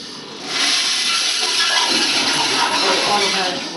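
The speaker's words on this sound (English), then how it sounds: "Automatic flush." An automatic toilet flushes in a care facility restroom near a changing table, a loud steady rushing hiss of water that swells after a brief quieter start and continues throughout.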